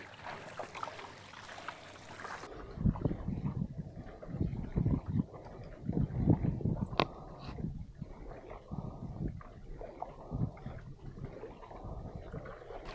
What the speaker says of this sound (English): let's get this nice warm-up paddle session in